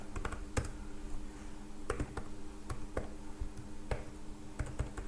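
Sparse, irregular keystrokes on a computer keyboard while typing a database query, with close, crisp clicks separated by short pauses and no talking.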